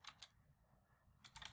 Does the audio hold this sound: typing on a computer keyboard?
yes